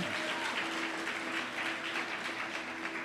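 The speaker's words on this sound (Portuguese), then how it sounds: "Aplauda o Senhor Jesus mais uma vez." A church congregation applauds with a dense, steady wash of clapping heard from the room at moderate level, continuing evenly for the brief moment.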